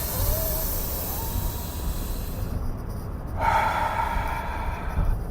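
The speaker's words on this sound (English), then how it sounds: "A lot of deep breathing" A person breathes deeply, drawing in long audible breaths and then letting them out, heard close up with no speech.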